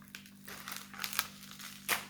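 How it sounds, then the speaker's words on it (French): Wrapping paper is torn and crumpled while a diamond painting kit is unboxed, giving several close, crinkly rips and rustles in uneven bursts, with the sharpest tear near the end and no voices. "J'ai déchiré le papier."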